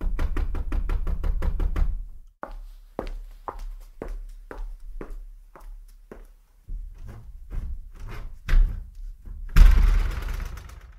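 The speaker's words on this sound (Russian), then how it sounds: "Позже стук возобновился. Он стал быстрее и решительнее." Knocking on a wooden door as a horror-story sound effect: a fast run of sharp raps at the start, then slower, heavier single knocks spaced out, ending in a louder burst, with no talk.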